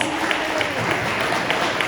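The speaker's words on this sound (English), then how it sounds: "can we give him a round of applause?" Brief round of applause from a live event audience in Tower City, continuous clapping at moderate level with some crowd noise underneath.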